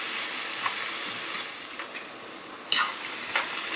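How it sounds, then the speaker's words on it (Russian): Cabbage frying in a pan, seasoned with pepper and stirred regularly as it cooks nearly done, giving a steady soft sizzle with occasional faint clinks of stirring. "И жарим капусту почти до готовности."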